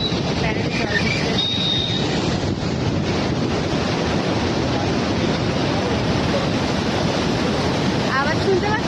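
Rushing water at the Durgapur barrage roars as a constant, loud wash of noise, with wind buffeting the microphone throughout.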